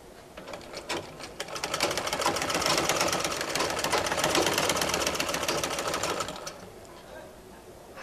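A sewing machine runs while stitching a kameez sleeve, starting up into a rapid even needle clatter that holds for several seconds before slowing and stopping, close and clear.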